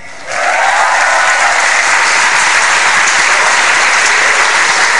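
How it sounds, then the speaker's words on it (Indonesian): A comedy club audience bursts into loud, sustained applause after a stand-up act, dense clapping that starts abruptly and holds steady. "Tepuk tangan sekali lagi untuk Detektif Ferry"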